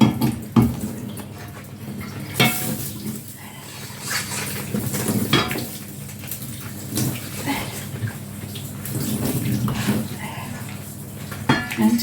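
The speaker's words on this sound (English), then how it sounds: "rinse it out with the hot water." Hot water runs and splashes over the lid of a cast iron Dutch oven as it is rinsed in a sink, a steady close rush with occasional clanks of metal against the basin.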